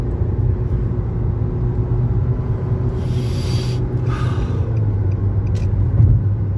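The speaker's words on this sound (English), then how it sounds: "There it is, the Coca-Cola truck." A Coca-Cola truck passes on Highway 301, heard as a steady loud rumble of road and engine noise from inside a moving vehicle, swelling briefly as it goes by.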